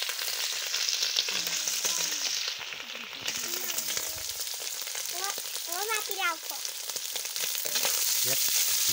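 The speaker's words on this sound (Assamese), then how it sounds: "মাংসখিনি ভাজিছোঁ আৰু" Meat frying in hot oil with garlic and garlic leaves: a steady, dense sizzle runs throughout, close and loud, with a few brief bursts of speech-like sound over it.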